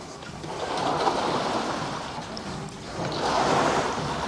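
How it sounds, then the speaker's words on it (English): Water swishes inside the tank of a Life Fitness Row HX water rower, two soft surging sloshes rising and falling with each stroke, close and fairly quiet with no talking. "So you can see the water moving"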